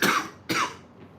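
Two harsh coughs in quick succession, close and loud, with nothing else around them.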